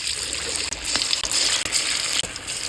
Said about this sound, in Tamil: இப்போ உருட்டி வச்ச உருண்டையை போட்டு பொரிச்சு எடுத்துக்கலாம்.